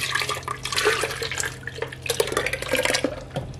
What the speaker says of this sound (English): Yeah, I'm gonna rinse this bowl out.